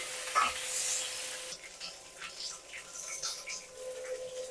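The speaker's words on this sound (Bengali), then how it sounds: "একটু ভাজা ভাজা করে নেই" Fish head frying in a pan with dried chillies, bay leaves and five-spice seeds, giving a soft steady sizzle with a brief louder crackle near the start and light stirring scrapes throughout.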